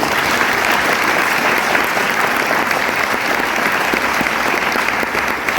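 A seminar audience bursts into loud, dense applause honouring the speaker's mentors at a Vestige success event, steady sustained clapping filling the hall from start to finish with no voice on top.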